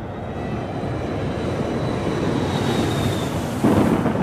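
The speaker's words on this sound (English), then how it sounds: "As the plane descends" Airliner descending through a thunderstorm on approach, a steady broadband roar of engine and rushing air with rumbling storm noise throughout, growing louder and heavier near the end.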